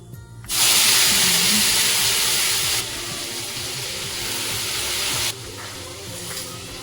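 Chopped green garlic hits hot oil seasoned with cumin and asafoetida, a sudden loud sizzling hiss that holds steady, drops slightly partway through, then settles lower as the frying continues, close and without talk.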